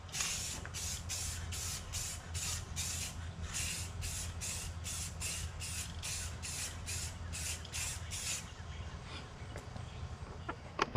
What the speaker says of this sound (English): I'm gonna spray a little clear on it.